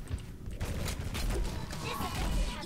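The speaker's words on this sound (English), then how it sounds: "Who is shooting me?" Dense, rapid gunfire rattles nonstop in an Overwatch match with D.Va, a loud fusillade of overlapping shots and impacts from close range.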